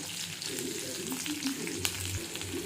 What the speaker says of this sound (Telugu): ఇప్పుడు పచ్చిమిర్చి వేసుకుందాం.